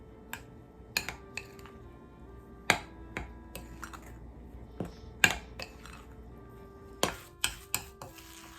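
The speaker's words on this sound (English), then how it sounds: "Now we want to mix it all together until we get a soft dough." Gluten-free cheddar biscuit dough with eggs being mixed in a bowl, heard as scattered sharp clacks and knocks of a utensil against the bowl at irregular intervals over a quiet background.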